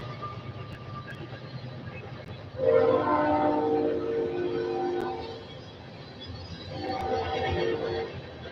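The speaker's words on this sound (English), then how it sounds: "Train." A passing train rumbles along the rails while its horn sounds twice at a moderate distance, a first longer blast followed by a shorter one after a brief lull.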